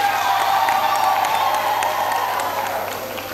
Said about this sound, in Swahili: Tuwapigie makofi wazazi.